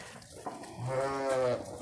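A young two-year-old Arashan sheep gives one loud, drawn-out bleat from close by, rising in the second half and fading away, with no talking.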